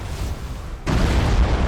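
Torpedoes strike an enemy ship in a space naval battle in Battlefleet Gothic Armada 2, a sudden loud deep blast cutting in after a quieter rumbling lead-in and sustaining a heavy roar.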